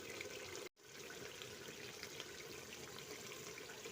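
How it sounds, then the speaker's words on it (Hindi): Water pours into a pot of qorma cooking in ghee and masala, a steady close splashing trickle broken by a brief silent gap early on, with no voices. "अब हम इसमें डालने लगे हैं पानी।"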